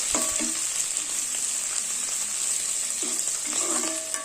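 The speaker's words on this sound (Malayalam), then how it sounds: "ഇതൊന്ന് നന്നായിട്ട് വഴറ്റി കൊടുക്കണം." Ingredients sauté in ghee in a pan for a drumstick-leaf rice dish, giving a continuous close sizzle with a few brief scraping stirs near the start and end.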